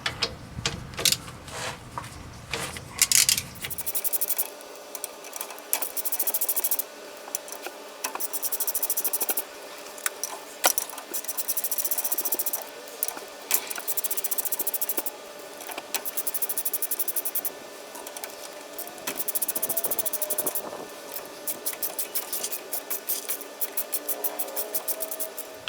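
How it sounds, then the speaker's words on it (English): Bolts are being removed from an engine cover with hand tools, heard as long stretches of rapid, close ratcheting clicks in bursts, broken by short pauses and occasional metallic taps. "we'll go ahead and finish taking all these bolts out"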